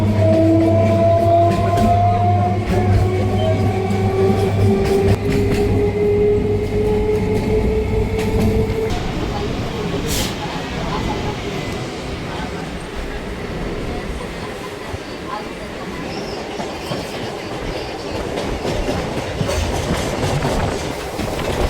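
A Chennai suburban train at Beach railway station rolls past close by with a loud, steady rumble, clattering wheels and squealing tones that fade as it moves on.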